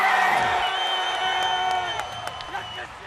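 Stadium crowd roaring and cheering after a Sharks rugby score at Kings Park against Zebre Parma, a loud sustained wash of voices and whoops that eases slightly toward the end, with a few sharp shouts poking through.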